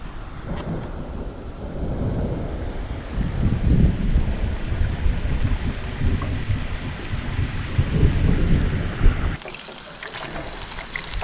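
A thunderstorm with rain and thunder at a Colorado truck campsite, a steady heavy roar of rain and wind with low rumbling swells, loud and continuous before dropping off abruptly near the end.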